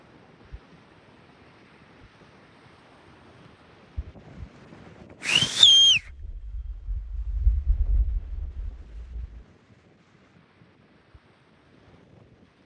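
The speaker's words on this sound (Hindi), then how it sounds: "पीछे ना किसी की सीटी सुनाई दे रही है" A brief sharp whistle with a falling tone rings out once outdoors on a high mountain pass trek, followed by a few seconds of low wind rumble against the microphone, otherwise near silence.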